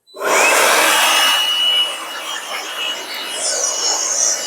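A DeWALT DCE100N cordless air blower kicks on and runs steadily nearby, a loud whooshing rush of air with a faint whine above it.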